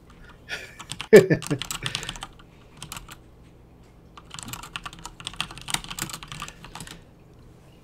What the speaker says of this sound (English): it is very aggressive typing. My mechanical keyboard is not quiet